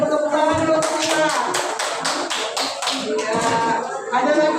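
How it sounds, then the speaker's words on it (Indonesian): A class of fourth-grade children clapping their hands together in a classroom, a run of rhythmic, evenly spaced claps in unison, with voices and chatter running underneath. "silakan semuanya tepuk tangan dulu kita"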